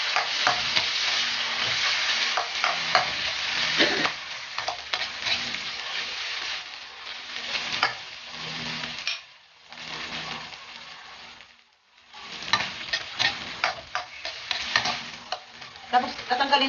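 Kidney beans and ham sauté in a pan with a steady loud sizzle and repeated stirring scrapes, briefly quieting twice before the frying resumes.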